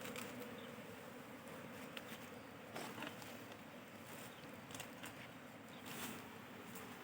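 Honeybees buzzing around a hive, a dense, steady drone of many wings, fairly faint and continuous for several seconds, with no speech.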